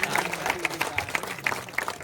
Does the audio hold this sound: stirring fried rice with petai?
no